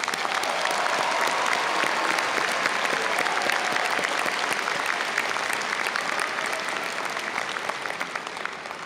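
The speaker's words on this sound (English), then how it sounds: "Let's give them all a round of applause." Sustained applause from a large crowd at a university commencement ceremony, dense and even, gradually thinning toward the end.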